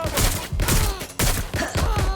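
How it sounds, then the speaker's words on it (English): Bursts of rapid gunfire in the video game Watch Dogs: Legion crackle loudly and continuously, with a brief pause between volleys, sounding close and intense. "Gunfire!"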